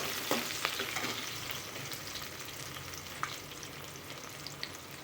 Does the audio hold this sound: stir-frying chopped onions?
yes